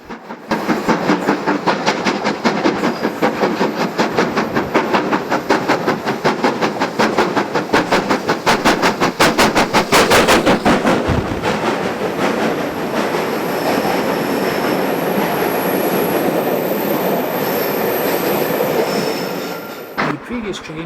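A steam locomotive special train rumbles past at close range for about twenty seconds, steady and loud, with rhythmic wheel clatter and a brief metallic squeal midway.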